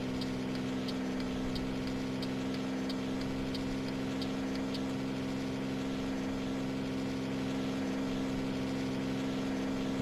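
A Kenworth 521 truck engine in American Truck Simulator runs under-revved at about 1100 RPM, giving a steady, low, droning hum that holds unchanged throughout, moderately quiet with a faint ticking layered above.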